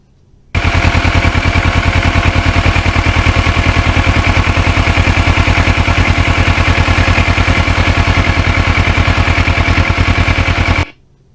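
A restored Kawasaki Ninja 650R motorcycle runs at speed on a ride up toward Valhalla Ridge, its close, loud engine holding a steady pulsing drone for about ten seconds before it cuts off.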